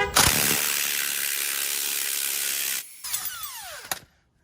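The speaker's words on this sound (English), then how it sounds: "All you gotta do is hit it with the impact." An impact wrench hammers loose a shock absorber bolt on a truck during a stock shock replacement, a loud continuous rattling burst for nearly three seconds, then brief ratchety bursts before stopping, up close.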